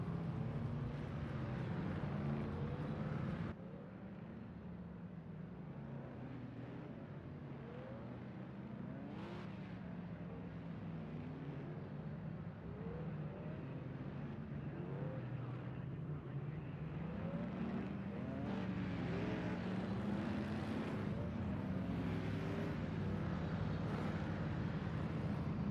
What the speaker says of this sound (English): We hear the engines roar as they're rearing to go green once again.